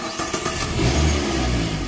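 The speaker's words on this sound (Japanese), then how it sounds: "もともと用意したエンジン音はこれです" Video game car engine in Assetto Corsa: a short ignition crank catches, then the motor rises into a loud, swelling rev that holds steady, alone with no talk.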